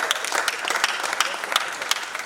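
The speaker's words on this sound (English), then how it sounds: "Please clap for Vector" Audience applause at a tribute event for a Nigerian entertainer, a steady burst of many hands clapping together, loud and close, with no other sound on top.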